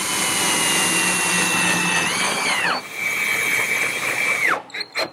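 A power drill whines as it drives a screw into the back cleat of a kitchen island cabinet, two long rising bursts of motor whir that stall and cut off, ending with a few short taps.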